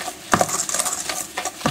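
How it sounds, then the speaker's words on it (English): A whisk scraping and clinking around a bowl of firmly packed light brown sugar for a brownie batter, with quick bright taps and a few sharper knocks, close and fairly loud with no talking. "I'm going to break all the sugars and keep whisking all the way around to dissolve"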